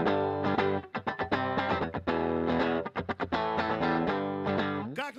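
Distorted electric guitar plays the riff of Nirvana's Smells Like Teen Spirit at a concert, loud and rhythmic with choppy muted strums between sustained power chords.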